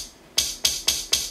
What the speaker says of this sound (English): like I did a flick of a lighter.